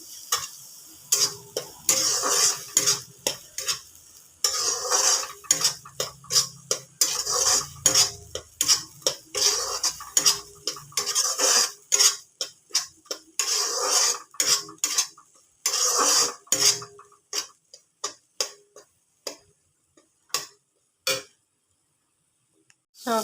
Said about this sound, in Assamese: নিমখ হালধি এড কৰি দিলোঁ। নিমখ সোৱাদ অনুযায়ী নিজে দিলেই হ'ল। আৰু ভালদৰে লৰাই দিছোঁ।